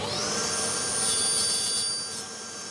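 A power saw makes a test cut in wood during a small drawer build, its motor whining at a high, steady pitch, loud and close, dropping slightly as the cut ends.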